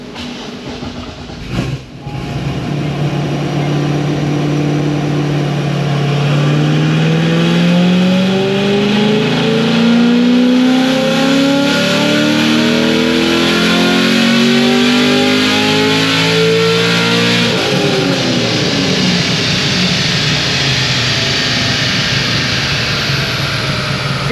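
A stage 3 tuned car on a dyno makes a long, loud, close full-throttle pull. The engine note climbs steadily in pitch for many seconds, then drops off and keeps roaring, with no talking over it.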